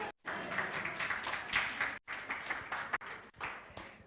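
An audience at an inter-university constitutional law moot court competition claps in uneven bursts, the sound cutting out briefly several times, moderately loud and fairly dense, with no talking over it.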